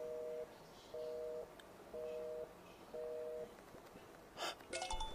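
A telephone booth rings in a video game, a two-tone electronic ring repeating in even bursts about once a second, followed by a brief noisy rustle and a few sharp clicks near the end.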